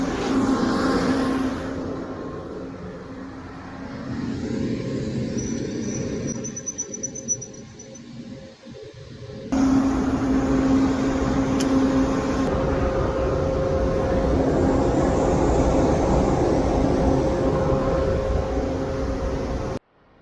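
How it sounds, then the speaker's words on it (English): A Shivvers CompuDry grain dryer starting up: a steady fan drone runs, then about halfway through the gas burner kicks in with a sudden louder roar and hum that holds steadily to the end. "flick this breaker, start the fan up. Then turn the gas on."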